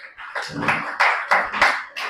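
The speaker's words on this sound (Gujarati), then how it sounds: "ભરતભાઈ માટે તાળીઓ પાડીએ" An audience at a Vedic spiritual talk gives Bharatbhai a short round of applause, several loud, close claps in an uneven rhythm.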